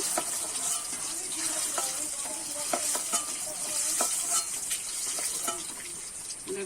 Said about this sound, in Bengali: ডিমটা আমার ভাজা হয়ে গেছে